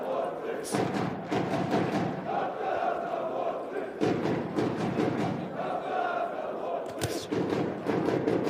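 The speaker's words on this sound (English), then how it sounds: "Again, good left hand to the body there from Kool" Boxing punches landing to the body in a professional pro bout in Moscow, dull thuds at intervals over a constant roaring arena crowd, with cheering surging near the end.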